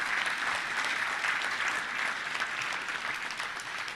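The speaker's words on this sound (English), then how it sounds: "Let's give a round of applause for that." A dense, steady round of applause from a seated club audience at a luncheon, loud and continuous for the whole stretch, with no voices standing out above it.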